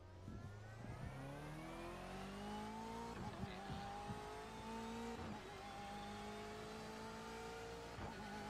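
A naturally aspirated 510-horsepower Porsche race car in a racing simulator game screams up through its gears, with rising engine pitch, brief dips at each shift and light tire squeal, heard alone at low volume.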